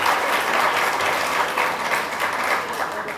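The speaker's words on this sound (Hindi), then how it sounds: "जोरदार तालियां।" An audience at a kindergarten teacher training camp claps enthusiastically, with a dense patter of hands that rises and falls slightly over about three seconds.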